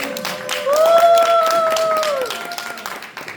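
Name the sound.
congregation applause welcoming the evangelist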